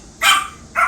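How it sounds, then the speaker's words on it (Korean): A dog gives two sharp, loud barks at close range, the second shorter, with a brief pause between them. "우리 만두가 짓네."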